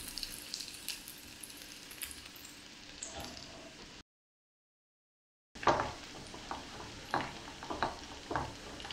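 Potatoes with green peas and onion fry in a pan for roasted butter aloo. A soft, low sizzle carries scattered scrapes and clinks as they are turned, with a brief dead silence midway.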